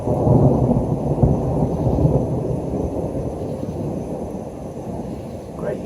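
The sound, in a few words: thunder from lightning bolts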